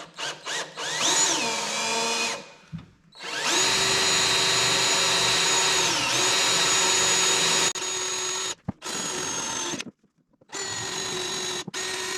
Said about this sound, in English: And I'm just gonna drill a couple new holes here.